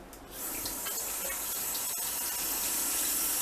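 Hot tap water runs steadily into a kitchen sink for hand washing, a close, even rushing hiss that keeps going without pause.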